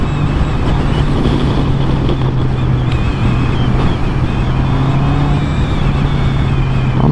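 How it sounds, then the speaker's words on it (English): Road traffic on a lunchtime road passes a stopped Honda CB650 motorcycle, giving a steady loud drone of engines and tyres with a constant low hum and wind buffeting the microphone throughout, with no talk. "I'm having a bit of bad luck now with the traffic on this road."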